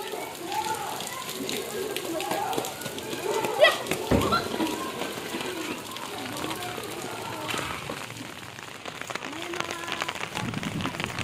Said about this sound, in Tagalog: malakas din yung ulan